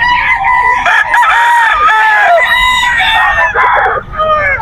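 Roosters crowing loudly and clucking close by at a Bocaue pet market, several overlapping calls filling the whole stretch with dense bird noise.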